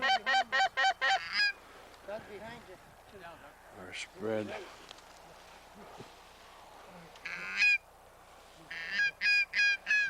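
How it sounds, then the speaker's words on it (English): Canada geese honking in repeated bursts, loud and close at the start and end of a goose hunt in the field, with hunters talking quietly in between. "Geese out there coming in this direction."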